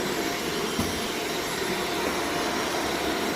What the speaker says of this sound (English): I'm gonna finish vacuuming really fast